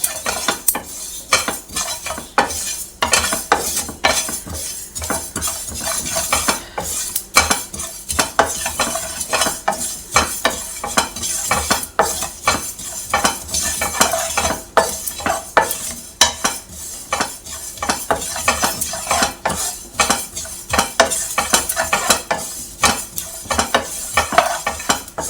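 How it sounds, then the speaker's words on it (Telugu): Cumin seeds roast in a pan while a metal spoon stirs and scrapes constantly, making loud, rapid clinks and scratches over a low sizzle for the whole stretch, with no voices. "జీలకర్ర మంచిగా దోరగా వచ్చేదాకా వేయించుకోవాలి."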